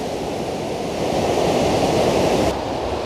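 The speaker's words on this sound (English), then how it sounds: "There's a waterfall just over there" A waterfall roars nearby as a constant, dense rush of falling water, swelling briefly louder before easing back.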